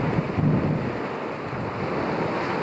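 Wind rushes constantly and loudly across the microphone aboard a Colvic Watson 34 yacht under full sail at about 7 knots, a dense roar mixed with water noise and no voices.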